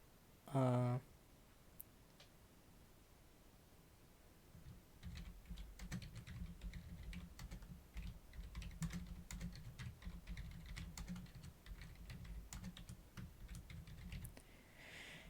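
A name is typed on a computer keyboard as a steady, fast patter of key clicks lasting about ten seconds. It is faint and near, and follows a brief tone and a stretch of quiet.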